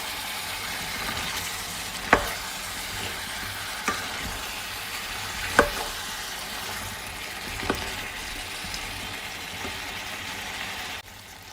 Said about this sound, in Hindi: अब इसके अंदर मैं अपना ये जो आलू है वो ऐड कर दूँगी और मज़ीद 4 से 5 मिनट इसको मज़ीद भूनूँगी